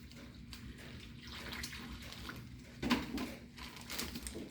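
Water splashes and trickles close by as it is added to a mix, quiet against a soft background hiss, with one brief louder splash near the middle.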